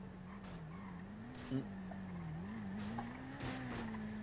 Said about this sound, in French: je crois entendre une moto.